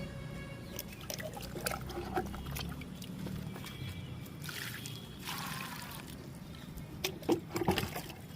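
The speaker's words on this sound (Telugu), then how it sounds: "ఇంకా వాటర్ ఇచ్చేద్దామండి ఈ మొక్కలకి" Water poured from a container onto soil around newly planted marigold plants in a garden, with a soft splashing trickle that swells in brief bursts over steady low outdoor background noise.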